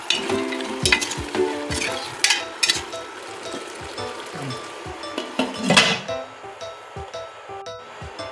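Chicken frying and being stirred in a pot for a Filipino Bisayang Manok with Ubad dish, a loud sizzle with repeated scraping and clanking strokes of a utensil against the metal.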